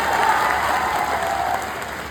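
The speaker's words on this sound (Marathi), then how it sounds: "एकदा जोरदार टाळ्या झाल्या पाहिजे शेतकरी संघटनेसाठी." Crowd at a farmers' association rally bursts into strong, sustained clapping, a thick wash of many hands that holds steady before easing slightly toward the end.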